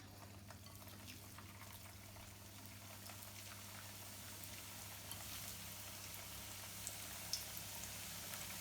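Crispy rice pakoda fry in hot oil, a soft steady sizzle and bubbling with occasional faint pops, quiet and continuous.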